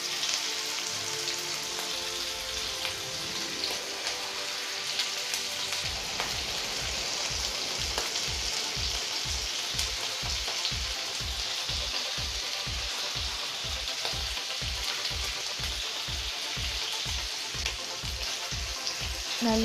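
Continuous loud sizzling of chicken frying in butter in a hot pan, with a rhythmic pulsing crackle running steadily throughout.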